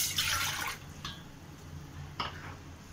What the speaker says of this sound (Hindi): जिसके लिए मैं 1 कप पानी डालूंगी।